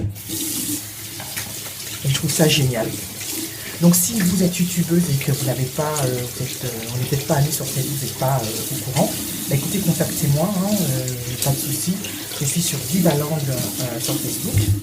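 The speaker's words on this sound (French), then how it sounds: "Pardon pour le bruit du robinet" A bathroom faucet runs steadily as a broad hiss beneath continuous close talking that dominates throughout.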